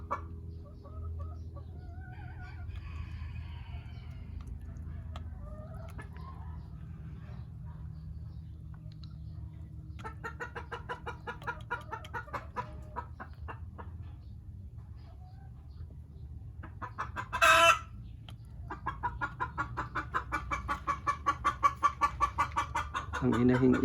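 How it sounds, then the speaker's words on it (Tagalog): A hen kept among farm fowl cackles loudly after laying, its repeated clucking calls rising in bursts over a steady low background, with brief rustling and other chickens nearby. "Ayan, pumutak na ang isang inahin dun."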